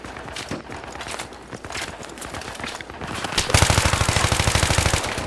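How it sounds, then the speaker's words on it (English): Machine gun fire in the video game Battlefield 3, a rapid stream of shots that grows louder and denser in the second half as a full magazine is unloaded, with no voice. "I'm just unloading all these rounds, and people still don't die."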